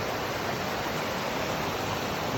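Deep Creek rushes along a mountain trail, a steady broadband hiss of flowing water, unbroken and fairly close, with no voices over it.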